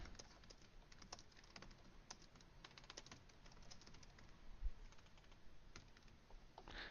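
Fingers type a short description on a computer keyboard, a steady, quick patter of soft key taps, close but quiet, with no voices.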